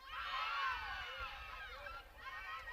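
A crowd cheers and shouts at a college softball game between Oklahoma and Texas Tech at Rocky Johnson Field, with excited voices rising and falling in a lively, continuous din.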